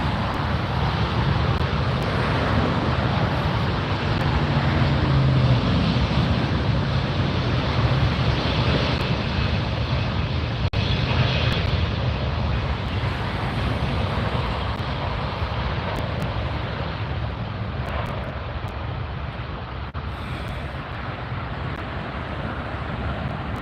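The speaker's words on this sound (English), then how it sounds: "Right across from us we have the Virgin Atlantic starting to taxi, or starting to take off" Virgin Atlantic Airbus A350 taking off at LAX, a loud continuous broadband engine roar sustained throughout, slowly easing in level near the end, with no talking over it.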